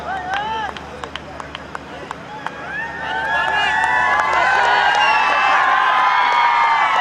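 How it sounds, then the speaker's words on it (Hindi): A crowd at a night cricket match cheers and claps after a powerful delivery, the noise swelling loudly partway through, with whoops, whistles and a commentator talking over it. "ये तालियां बरस रही है।"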